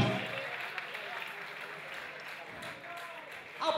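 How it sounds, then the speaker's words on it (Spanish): Audience applause at a live rock concert in a Bilbao music competition semifinal, a steady broadband clapping wash lasting throughout, with a swell at the end and some crowd voices mixed in. "por favor un aplauso para vosotros,"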